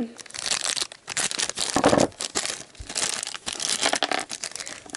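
Plastic packaging crinkles and snips as it is cut open, with a louder crunch midway and a voice talking intermittently nearby.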